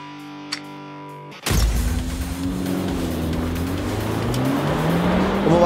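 Honda Civic FK7 fitted with six-piston brake calipers and 355 mm discs, starting a race-track test: after a quiet idle hum, the engine roars up loudly and holds a rising, revving drone close by.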